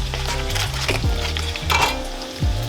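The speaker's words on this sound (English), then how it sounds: "So we're gonna add about a 1/4 cup of butter" Butter sizzles in a hot pan of golden-brown potatoes, a steady close crackling hiss with faint scraping and pan knocks, no voices.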